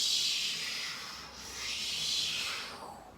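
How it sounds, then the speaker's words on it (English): Homemade ocean drum made from paper plates, swirled in a circular motion so the beads roll around inside, giving a soft continuous hissing wash that swells, dips and swells again like surf, alone with no voices. "when you move it in a circular motion, it kind of sounds like the ocean"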